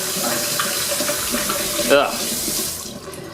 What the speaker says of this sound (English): Let me just rinse that off.